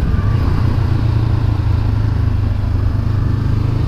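A motorcycle rides along a track with a steady, loud, low engine drone that holds constant throughout without clear revving changes.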